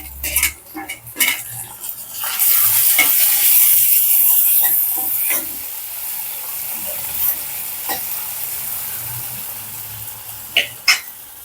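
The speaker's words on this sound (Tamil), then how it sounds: "இந்த டயத்தில் தக்காளியை சேர்த்துக்கிறோம்." Tomatoes frying in oil with onion and garlic for a dry seer fish curry: loud sizzling and hissing with repeated spoon scrapes and clanks against the pan, busiest early on, then easing to a gentler fry with occasional knocks.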